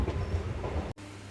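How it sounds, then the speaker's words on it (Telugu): A MEMU express train pulls out of Undi railway station with a steady rumble and rattle of carriages heard from on board, cut briefly by a sharp dropout. "ఉండి రైల్వే స్టేషన్ నుంచి కూడా మన ట్రైన్ బయలుదేరిపోయింది"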